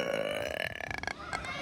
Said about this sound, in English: Guy burping.